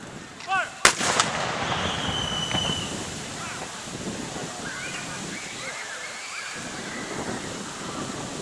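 A cannon fires a single loud blast in a Confederate Memorial Day salute by the Sons of Confederate Veterans in Savannah, followed by a long rumbling echo that fades slowly. Faint voices and ambient noise remain afterward.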